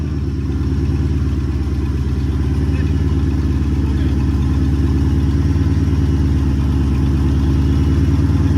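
A Dodge Charger engine, jump-started at a towing auction, idles steadily and close by, a low loud rumbling throb with a faint clatter, unchanging throughout.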